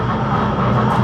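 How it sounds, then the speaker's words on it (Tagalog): Helicopter in flight above Davao, a dense, loud, steady engine and rotor roar heard from inside the cabin, with no voices. "nasa helicopter po talaga kami"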